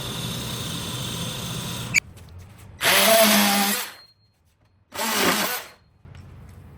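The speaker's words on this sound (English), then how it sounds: "I gotta use my drill press to put 2 threaded inserts here" A drill press bores holes in a sign, with two loud bursts of whirring and grinding separated by short pauses and steady machine hum before them.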